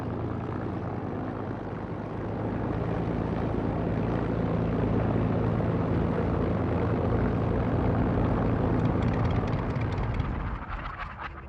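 RAF Spitfire fighters of a Norwegian unit flying from Scotland, a steady loud propeller-engine drone that holds for most of the stretch before dropping away at the end, with no voices.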